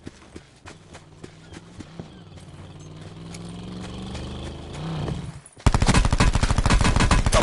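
Call of Duty: Black Ops 4 gunfire: sparse single shots over a rising hum, then a loud, rapid automatic burst of close shots in the final two seconds.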